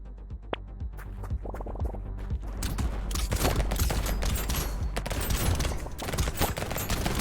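Nuke Launcher weapons fire rapidly in the arcade game Brotato, a dense barrage of booming blasts and bursts that builds into near-continuous explosive noise over the clip.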